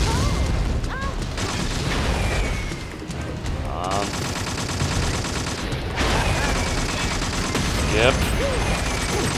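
Rapid bursts of gunfire in the MySims SkyHeroes video game, dense and continuous shooting over music, with a brief spoken word.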